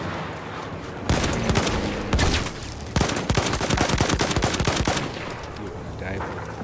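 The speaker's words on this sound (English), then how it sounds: "Machine gun!" Machine guns rattle in fast, sharp bursts on a Battlefield 1 battlefield, loud and close, with brief pauses between volleys and a quieter tail at the end.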